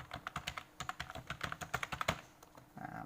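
Someone types a search on a computer keyboard, a quick run of close, crisp key clicks with short pauses, ending in a softer rustle.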